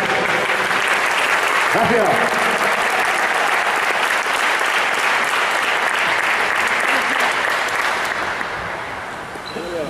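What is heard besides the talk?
audience applause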